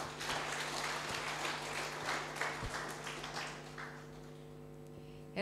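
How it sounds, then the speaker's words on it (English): Soft, distant applause from an audience welcoming a moderator at an international university public lecture, a steady wash of clapping that fades over several seconds over a faint electrical hum. "Give applause to our moderator."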